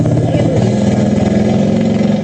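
A small 1.5-horsepower engine on a vintage Doodlebug scooter runs loud and close with a steady buzzing drone, while a voice speaks over it.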